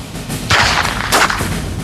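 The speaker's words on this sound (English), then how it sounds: "maintain control during gunfire" Gunfire rings out during K9 police dog training, two sharp loud bangs about half a second apart, each with a short echoing tail.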